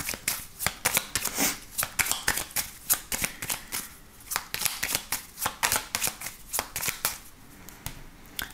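A 32-card deck being shuffled by hand, crisp riffling bursts repeating in a steady rhythm, close and fairly quiet with no voices.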